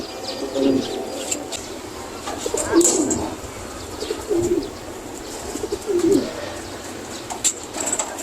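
Homing pigeons arriving at the loft: soft cooing and scattered chirps over a quiet background, with brief wing flaps at intervals.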